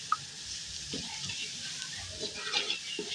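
Onions and garlic paste frying in a pan, a soft, steady sizzle with occasional stirring scrapes and small clinks, close but fairly quiet.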